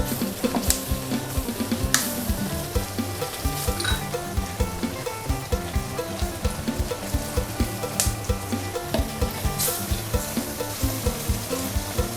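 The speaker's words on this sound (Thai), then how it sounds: "พอน้ำกะทิเดือดแล้วนะคะ" Coconut milk boiling in a pan for a Thai fish curry, a loud, close, continuous bubbling sizzle with rapid popping and occasional stirring clatters.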